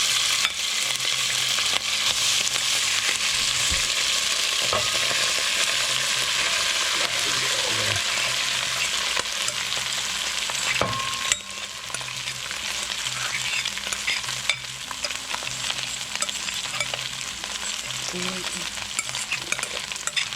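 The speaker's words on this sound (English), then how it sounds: "put some hot grease in there, and we're going to fry up that shredded beef" Shredded beef frying in hot grease in a pot, giving a loud, continuous crackling sizzle with occasional stirring scrapes, heard alone without voices.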